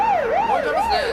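A police car siren wails loud and close at a street racing scene, its pitch sweeping steadily up and down in a continuous cycle.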